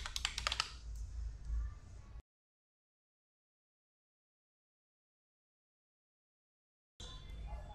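Brief rapid keystrokes on a computer keyboard at the start, close and crisp, followed by a long stretch of total silence before faint background noise returns.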